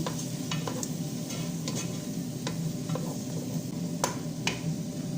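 Previously boiled meat cooking in a pan, a steady close sizzle with occasional sharp scrapes and taps of a utensil stirring against the pan.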